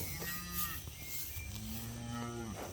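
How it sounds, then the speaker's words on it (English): A farm cow named Miss Candy gives two long, deep moos in close succession, near and fairly loud, with a brief pause between them and no talking. "Miss Candy's a good cow."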